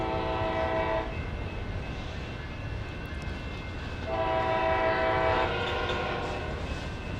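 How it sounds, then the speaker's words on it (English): Union Pacific freight train and Coaster commuter train sounding loud, sustained chord horns in two long blasts, the second starting about three seconds after the first ends, over steady rumbling rail noise near an airport in San Diego. "Here comes the coaster and Union Pacific. They're honking at each other."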